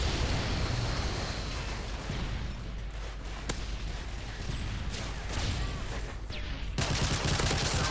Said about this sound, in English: It's a good air strike.